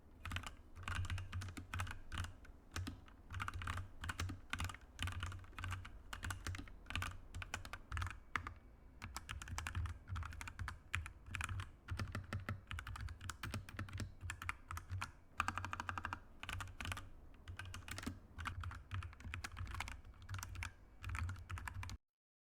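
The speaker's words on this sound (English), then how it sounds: "I'm going to be doing a sound test of the before and after" Continuous typing on a modded computer keyboard, rapid clacky keystrokes with occasional heavier thocks from the spacebar and enter key, close and steady throughout.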